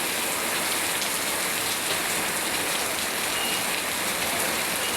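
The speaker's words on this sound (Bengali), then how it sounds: "অত্যন্ত সুন্দর বৃষ্টি, আপনারা দেখুন।" Rain falls steadily, a close, even patter and hiss of drops striking surfaces, constant in level with no breaks and no talking.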